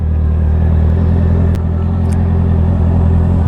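Steady close engine drone and road rumble from an e-bike being ridden while cruising, a continuous low hum with wind and tyre noise running evenly throughout, no talking.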